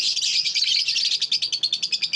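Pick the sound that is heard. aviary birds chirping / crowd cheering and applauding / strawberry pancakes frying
aviary birds chirping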